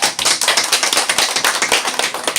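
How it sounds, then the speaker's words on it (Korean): A church congregation claps together in a sustained round of applause for a newcomer, dense and steady from start to finish with no talking over it. "다시 한번 크게 박수."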